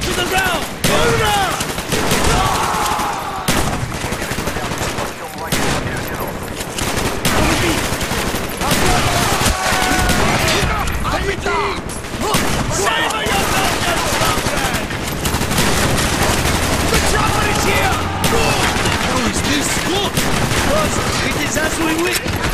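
Dense gunfire from Call of Duty Black Ops in a Vorkuta prison level, with rapid bursts and heavy shots running throughout, mixed with shouting voices and loud battle noise.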